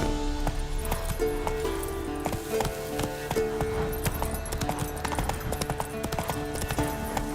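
Roach the horse trots in The Witcher 3 at the keep of Kaer Morhen, hooves clip-clopping in a steady rhythm over game music and ambient clinks, moderately close.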